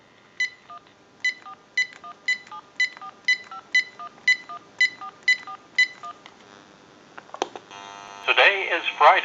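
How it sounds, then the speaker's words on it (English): Touch-tone dialing on a line through a General Electric 27909 cordless phone under repair: a dozen crisp, evenly spaced DTMF beeps, then a click and a loud automated time-and-temperature voice recording. "we can make that call"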